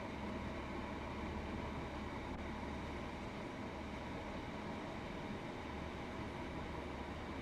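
A diesel multiple unit train in Train Sim World 2 runs on the West Cornwall line with a continuous, even rumble and hum, fairly quiet and steady throughout with no voices.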